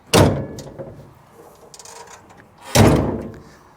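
Door of a 2004 Ford Excursion Limited 6.0L Powerstroke diesel being worked, two heavy close thuds of the door shutting with a lighter latch rattle between them.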